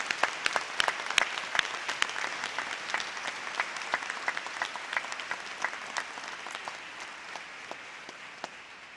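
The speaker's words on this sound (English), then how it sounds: "how about one more round of applause?" A commencement audience applauds graduates of a university ceremony with sustained clapping from a large crowd, sharp individual claps standing out over a broad wash that gradually fades and thins across the stretch.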